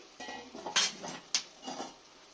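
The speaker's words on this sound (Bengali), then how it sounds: "ঢাকনাটা খুলছি" A metal lid lifted off a pot of simmering potatoes and spring onions, giving two short clinks a moment apart, close and clear, with soft kitchen rustle between.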